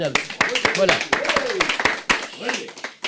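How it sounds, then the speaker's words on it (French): Sharp, scattered hand claps break out from an audience cheering a model at a French-speaking show, and they are mostly masked by a presenter's lively ongoing talk. "On peut l'applaudir."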